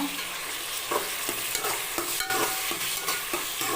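Onions and tomatoes sautéing in a pan for a sundakkai puli kuzhambu, soft sizzle under rhythmic scrapes of a ladle stirring every half second or so, close and clear.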